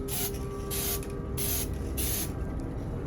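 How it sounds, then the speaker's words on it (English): A spray bottle filled with water mists a mirror surface in four short, evenly spaced hissing bursts, close and fairly quiet over a low background hum. "we need a spray bottle filled with water"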